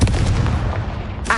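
A blasting-spell explosion from Hogwarts Legacy, a single loud, deep booming burst that rumbles on for over a second with a brief bright crack near the end, close and alone.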